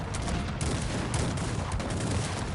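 Dense crackling volley of cannon grapeshot and massed gunfire in the real-time strategy game Cossacks 3 battle, continuous loud rattling bursts with heavy low rumble, no voices.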